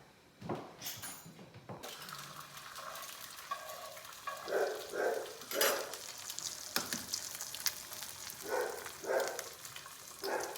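Butter sizzles and crackles steadily in a hot pan, with louder bursts of frying as eggs drop in, plus a few scrapes and clinks.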